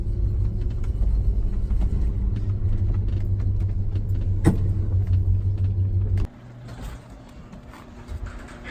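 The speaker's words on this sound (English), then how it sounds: "we'll see if the old ambulance can make it down here" An old ambulance converted into a jeep drives slowly through deep snow, a steady low engine rumble and road roar close by for about six seconds, then dropping abruptly to a quieter idle with faint crunching.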